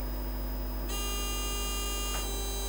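A steady electronic buzz from an ignition timing tone timer held against a Rotax engine during a rebuild, sounding continuously and evenly at close range with no talk over it.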